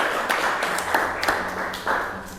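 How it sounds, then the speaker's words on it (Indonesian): Applause from a classroom group of teachers or students for group 2, a steady wash of hand claps with several louder bursts. The clapping runs throughout and no talk is heard over it. "tepuk tangan untuk kelompok 2 ya"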